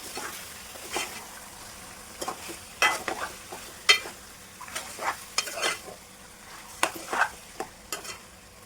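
Chicken pieces fry with slit green chillies in a pan, a soft sizzle running beneath repeated scraping and stirring strokes that come close and clear at uneven intervals, with no one speaking.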